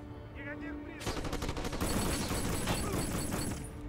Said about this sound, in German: Na, schießen die jetzt schon wieder.